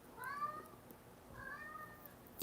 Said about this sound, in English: My cat is chiming in.